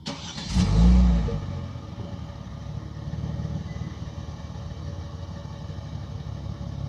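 Kia Stinger 3.3 GT with stock exhaust cranks and fires up loudly nearby, a brief rising roar as the engine catches, then settling into a steady, rumbling idle that continues alone.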